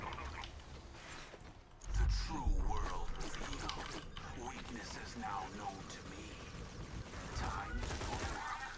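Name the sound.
Scorpio gun firing in Borderlands 2 video game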